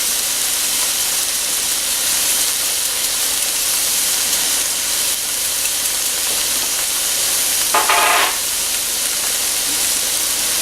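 Red onion frying in oil in a pan gives a steady, close hissing sizzle throughout, with a brief louder burst of crackle near the end.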